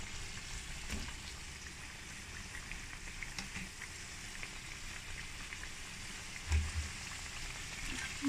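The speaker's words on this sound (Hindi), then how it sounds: "ये देखिए फ्रेंड्स, हम अपने समोसे जो हैं इनको फ्राई करने लगे हैं।" Ring samosas, potato-filled aloo samosas, frying in oil that is not too hot: a soft, steady bubbling sizzle throughout at low level, with a brief louder bump near the end.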